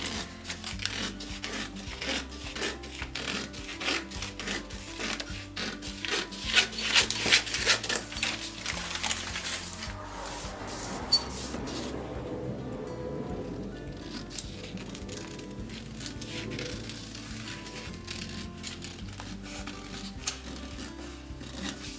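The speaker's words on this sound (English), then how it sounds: "you can see I'm cutting past the notches here" Scissors cut a paper pattern piece for a baby onesie drafted from a basic block, past the marked notches. The rasping snips come close and steady, then ease into a quieter, continuous rustle of paper.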